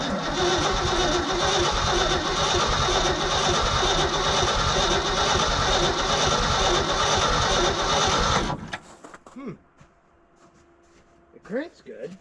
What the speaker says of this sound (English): It cranks good.